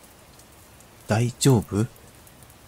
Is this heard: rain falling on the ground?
yes